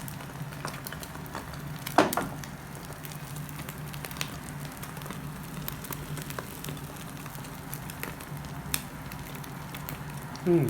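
A peacock egg fries in oil in a pan, sizzling and crackling steadily, with a few sharper pops and clinks of a utensil, no voices.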